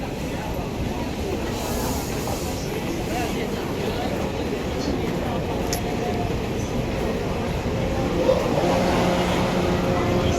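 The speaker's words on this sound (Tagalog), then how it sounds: "Nandiyan na yung tren." A train pulls into Yuansan Station in Taipei, a continuous low rumble and hiss of rolling cars filling the platform, building slightly toward the end with a faint high squeal.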